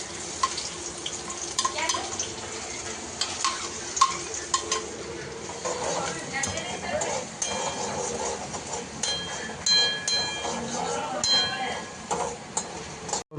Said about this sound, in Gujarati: તેલ થોડું ગરમ થાય એટલે આપણે ડુંગળી નાખી દઈએ.